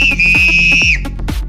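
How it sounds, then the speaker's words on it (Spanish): A sharp, shrill whistle is blown into a telephone in one sustained blast lasting nearly a second, loud and close, with a muffled background rumble around it. "Les chifló por el teléfono con un silbato o les silbó"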